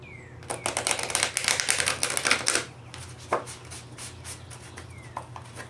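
Oracle cards from a Spirit Animal deck being shuffled up close in a quick, fluttering burst of riffles, followed by a few scattered taps and softer card handling.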